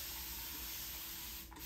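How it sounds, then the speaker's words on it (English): A spray bottle mists water onto wet curly hair in a continuous soft hiss, with a brief extra burst near the end, close and fairly quiet. "I'm just going to spray both sides"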